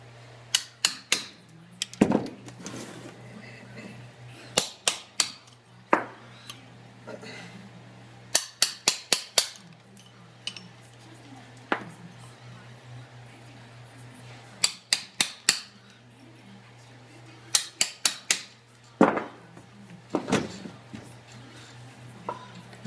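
Hand chisel knocking and scraping out soapstone waste from a drilled hole, quick clusters of sharp taps spread through the clip with quiet gaps and soft handling noises between them.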